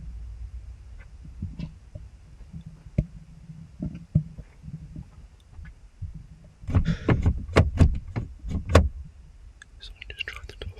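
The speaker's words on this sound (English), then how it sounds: "Someone just tried the door." A van door is tried from outside at night during stealth camping, a burst of rapid rattling clunks and handle clicks after quieter shuffling, with hushed whispering heard before it.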